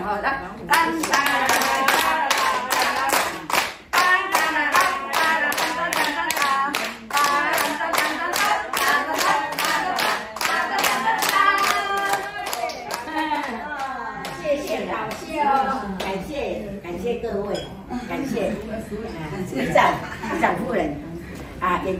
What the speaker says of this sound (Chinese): 来，来，来，掌声，来，掌声